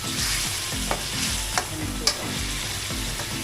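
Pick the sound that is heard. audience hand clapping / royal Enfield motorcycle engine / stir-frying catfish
stir-frying catfish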